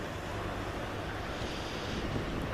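Sea waves and wind on the shore at Mahdia, Tunisia, a continuous broad wash of surf with rumbling wind buffeting the microphone, steady and fairly close, with no voices.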